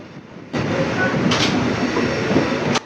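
A festival special train on the Karaikal–Peralam line rumbles past close by, its loud, steady rolling noise starting abruptly and carrying faint wheel clatter and brief hiss bursts.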